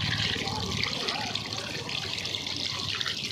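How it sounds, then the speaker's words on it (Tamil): Water from a tap runs steadily as someone washes their hands after eating, a continuous close splashing flow with faint voices in the background. "சாப்பிட்டு முடிச்சுட்டு ஹேண்ட் வாஷ் பண்ண பாருங்க."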